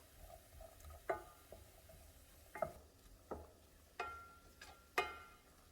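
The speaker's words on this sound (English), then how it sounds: "I'm going to saute this until the onions are translucent" Onions sautéing in a pan with salt and cracked black pepper: a soft, steady sizzle underneath, broken by a few sharp stirring scrapes and clatters spaced a second or so apart, with no talking.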